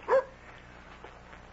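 A dog at the door gives one short bark, fairly faint and distant, against a quiet background.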